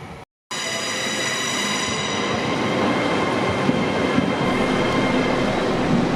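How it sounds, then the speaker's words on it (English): A steady rumble and rattle from inside a busy moving passenger train bound for Carlisle, wheels clattering on the track, with a faint high whine running through it. "on a busy train, the short journey to Carlisle"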